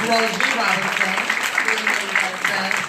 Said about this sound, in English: another round of applause for Carroll G. Robinson